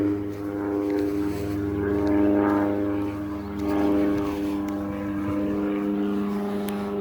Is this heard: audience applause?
no